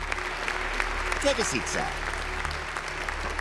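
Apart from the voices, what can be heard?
audience applause in Mr. Bean cartoon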